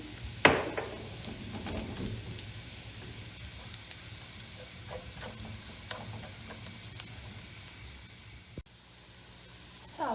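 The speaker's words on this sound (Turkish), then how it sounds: "Biberlerim de kavruldu. Şimdi bir tatlı kaşığı domates salçamı ekliyorum." Peppers and tomato paste fry in a pan for a spinach and egg sauté, a soft, steady sizzle under repeated light scrapes and taps of stirring, with one sharper knock near the start and no speech.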